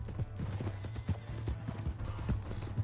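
Horse hooves clip-clop at a steady, rhythmic gait in Red Dead Redemption 2, with a low droning hum underneath and no voices.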